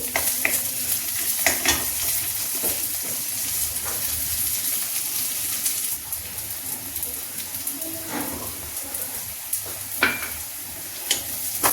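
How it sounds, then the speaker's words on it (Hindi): Onion and garlic fry steadily in a pan with a constant hiss and sizzle, while occasional utensil scrapes and clicks stir through it, close and even in loudness. "देखिए प्याज भून गया"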